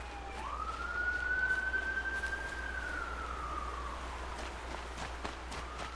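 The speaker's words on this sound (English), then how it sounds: "There we go, there's the requisite siren." A police siren outside wails in a single long rising and falling sweep, distant and muffled as if heard through walls, over a steady low background hum.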